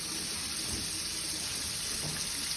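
Hot water runs steadily from a tap over provisional dentures at a sink, a faint, even hiss with little change, no one speaking.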